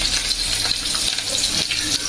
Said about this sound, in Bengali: এই কাঁচামরিচ, পেঁয়াজ, রসুনগুলো একটু হালকা ভেজে